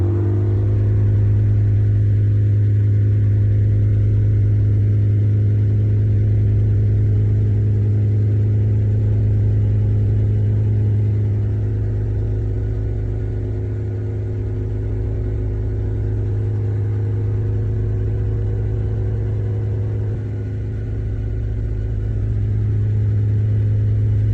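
A 2006–2011 Honda Civic engine is revved with the throttle, giving a loud, close, low droning hum that swells and eases slightly in slow waves, with no voices.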